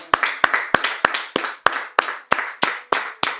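A congregation claps together in praise during a prayer gathering, about eleven crisp, evenly spaced claps in a steady rhythm, close and clear with no talk over them.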